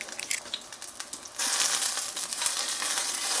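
Pot stickers frying in a hot pan, a soft rustle giving way to a loud, steady sizzle with spitting crackle, close up.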